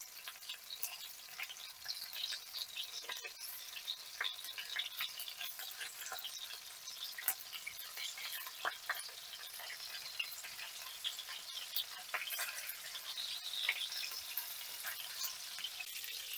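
Zucchini cutlets fry in a pan with a faint, steady sizzle and soft crackles, occasional light scraping as they are turned, no voices.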